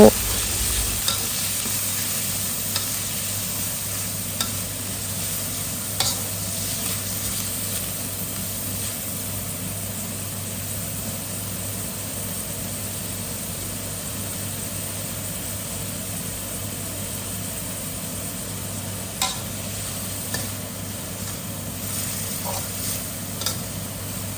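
Minced pork stir-fries in a pan with a loud, continuous sizzle, steady frying hiss and occasional scraping clicks of stirring throughout, with no talking.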